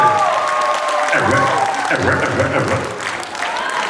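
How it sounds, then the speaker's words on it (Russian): Concert audience applauds and cheers at a 2024 solo jubilee concert, a steady crowd roar mixed with tonal voices or music throughout. "ваши аплодисменты!"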